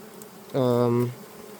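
Honey bees buzz around a small mini mating nuc hive, one steady droning buzz swelling for about half a second close to the listener over quiet background hum.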